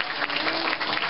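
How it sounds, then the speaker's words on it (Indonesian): Steady applause from an audience at an Indonesian gathering, a dense even wash of many hands clapping throughout. "Oke, tepuk tangan."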